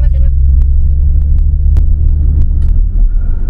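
Low, steady cabin rumble of an Audi A6 C7 3.0T turbo on the move, heard from inside with a deep road and engine drone and a few faint clicks, while people talk over it.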